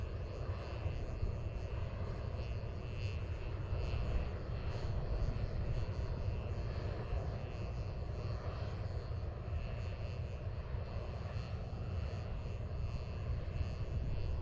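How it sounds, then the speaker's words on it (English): NASA RS-25 rocket engine roaring through a certification hot fire on the Fred Haise Test Stand at Stennis Space Center, a steady, dense, loud broadband rumble that holds unbroken throughout, heard alone without talk. "Please enjoy today's certification hot fire of an RS-25 rocket engine on the Fred Haise Test Stand at NASA's Stennis Space Center."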